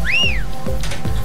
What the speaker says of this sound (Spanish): han puesto eso de que puedas escuchar el silbido.